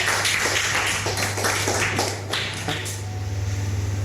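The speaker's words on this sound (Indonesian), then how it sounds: "kita kasih aplaus untuk kelompok 2 ya" A classroom of students applauding a student group after their presentation on making liquid organic fertilizer, scattered close claps over a steady low hum that thin out and fade partway through.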